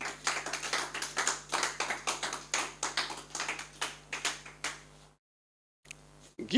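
Rhythmic clapping from a church congregation, loud and steady beats in unison for about five seconds, then a brief silence and a few more claps.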